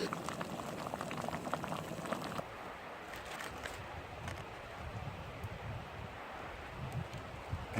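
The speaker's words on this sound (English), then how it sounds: "That is almost already boiling." Water coming to a boil in a camp pot for a Mountain House chili mac with beef meal on a logging-road motorcycle ride, a steady close bubbling hiss that runs throughout and grows rougher after the first couple of seconds.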